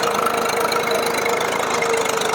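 A tractor engine runs steadily while pulling a cultivator through a field, its loud, continuous mechanical drone with a rapid knocking pulse holding constant throughout and no voices.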